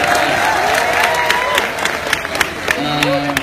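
A crowd at a Duterte rally in Jolo, Sulu claps and cheers in a dense, sustained wash, with voices murmuring through the applause.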